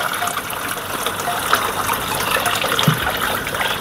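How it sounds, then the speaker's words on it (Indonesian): Water pours steadily into an aquarium fitted with an undergravel filter and a sand bed, a loud continuous gushing and splashing that lasts the whole time. "sekarang kita mau masukin langsung aja airnya ya. Jadi kita bisa tuang airnya seperti ini"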